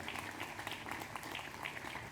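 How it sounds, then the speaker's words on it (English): Applause for three Riverside Brookfield High School seniors at a Memorial Day program, a short stretch of steady, fairly faint crowd clapping with no voices over it. "Let's have another round of applause for these three talented Riverside Brookfield High School"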